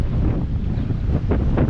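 Strong wind, about 50, buffets the microphone on a boat in the West Philippine Sea amid 8 to 9 foot waves, a loud, continuous roar with surging water.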